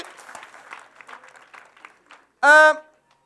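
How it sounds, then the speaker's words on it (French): Light applause from the crowd at an improvisation competition tapers off quietly, then a single loud whoop or cheer rings out briefly before silence. "on peut leur donner une bonne main d'applaudissement"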